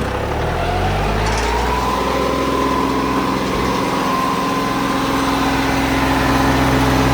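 A Mahindra Arjun Novo tractor engine runs without its silencer, a loud, close, raw diesel roar that holds steady and rises slightly as it is revved.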